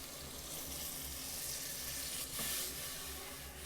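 About one and a half cups of water poured into a hot pan for Tamil egg curry, a continuous loud hissing sizzle and rushing splash with no talk.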